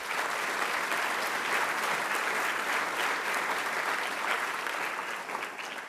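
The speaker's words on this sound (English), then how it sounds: "Give yourselves a round of applause." An audience applauds at a medical school ribbon cutting ceremony, a dense, steady wash of clapping from many hands that holds for six seconds and eases slightly at the end.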